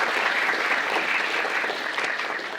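An audience applauds at an academic award ceremony, giving close, loud, dense clapping from a seated crowd that tapers slightly toward the end.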